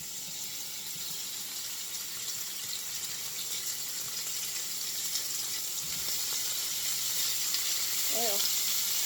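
Seasoned beef stew meat for chili hits a hot pan and sizzles, giving a steady, hissing fry that swells slightly and is heard close with no talking.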